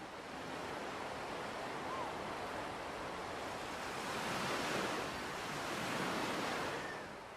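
Ocean waves roll onto a beach in Algeria as a continuous broadband wash of surf, with slow swells rising and falling, steady and moderately loud throughout.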